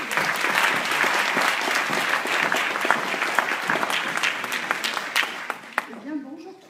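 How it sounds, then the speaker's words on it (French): Loud, dense audience applause with many hands clapping steadily, tapering near the end as a voice starts speaking. "Je vous demande de l'applaudir."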